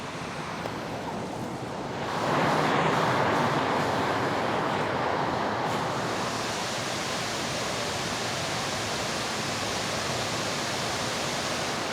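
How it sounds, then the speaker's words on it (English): Sgwd Yr Eira, a 30-foot waterfall in the Brecon Beacons whose water falls as a broad curtain, gives a steady rushing roar that swells louder after a couple of seconds and then holds constant, with no voices. "It's a stunning 30-foot waterfall that resembles a broad curtain of water."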